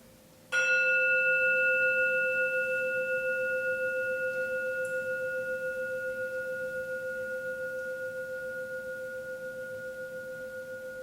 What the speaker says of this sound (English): we're just going to allow now the chime to flow and vibrate through our bodies.